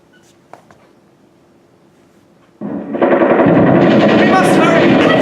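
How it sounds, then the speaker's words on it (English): In the video game He Said, She Said 2, after a quiet stretch with a couple of small clicks, loud rapid gunfire suddenly erupts and continues as a dense, sustained barrage. "Gunfire!"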